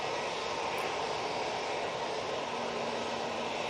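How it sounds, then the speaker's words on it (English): A Boeing 787 Dreamliner jet takes off at Manchester Airport, its engines giving a steady, broad roar at moderate distance that holds evenly throughout without pause. "Lovely rotation on that Dreamliner."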